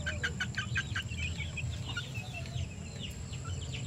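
Red and white Kelso chickens on a mountain farm cluck and call in short repeated bursts over a steady low rumble of background noise, fairly near.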